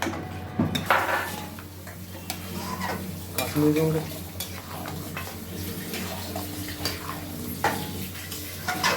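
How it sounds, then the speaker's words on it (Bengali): Meat and spices stir-fried in a pan for Rajasthani laal maas, with steady sizzling and repeated scraping strokes of a spoon against the pan, fairly close and continuous. "সব একসাথে মশলাগুলোকে দিয়ে আবারও মাংসটাকে ভালো করে কষিয়ে নিতে হবে।"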